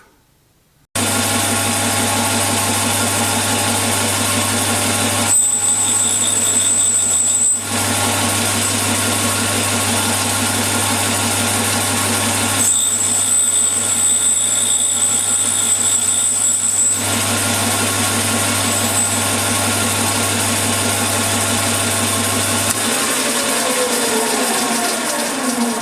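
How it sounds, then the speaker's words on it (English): A 12mm drill bit being sharpened on a grinder, with a steady motor hum running throughout and brief higher grinding contact bursts twice, no talking. "I'm going to spin it round onto the opposite side now till they both start grinding at the same position."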